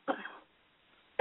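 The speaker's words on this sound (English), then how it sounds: "I'm getting over a really nasty cough" A single short, hoarse cough comes up close and fairly quiet, followed by a near-silent pause and a second brief burst at the end.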